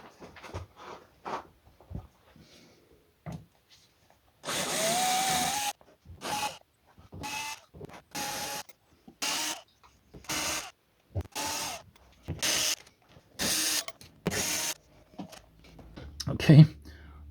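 Torx screws and 10mm nuts come off the plastic engine undertray and wheel arches of an Audi A2, heard as a run of short, close ratcheting bursts with brief pauses between them.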